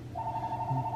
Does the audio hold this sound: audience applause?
no